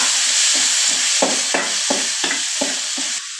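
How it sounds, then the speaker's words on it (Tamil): Cinnamon bark and cloves fry in oil in a pan, giving a steady close sizzle broken by a series of stirring scrapes and clatters roughly every half second, with no voices. "இப்போ பார்த்திங்கன்னா அந்த பட்டை கிராம்பை போட்டு கொஞ்சம் பொன்னுருளாக வறுக்கிறோம்."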